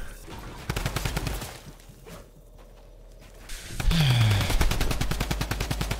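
Fortnite gunfire comes in loud bursts of rapid automatic shots, falls away to a quieter stretch of muffled movement, then returns as fast, sustained firing with a sliding tone.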